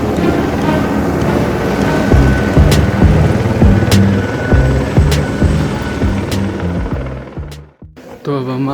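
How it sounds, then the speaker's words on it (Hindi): Steady loud whirring drone of a helicopter during a ride on a trip to Katra, with rhythmic rotor chop and wind buffeting close to the microphone, fading briefly near the end before returning. "तो अब हम आ गए हैं हेलीकॉप्टर से।"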